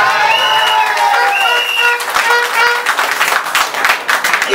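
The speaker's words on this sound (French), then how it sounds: "je applaudis" An audience applauds at a French-speaking gathering, dense steady clapping mixed with crowd noise and a few cheers, while high tonal whistles or instrument notes ring over the start.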